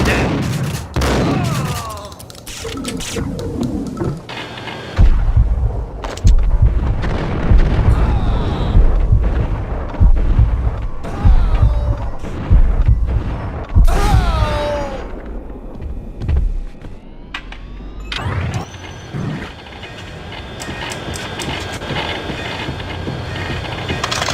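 A train blows up in the Max Payne Remastered video game, with loud booming blasts, crackling bursts and metallic clatter that build and then fade into a lower rumble.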